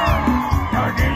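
A crowd at a live concert in Madera, California whoops and shouts in brief bursts over loud, sustained band music.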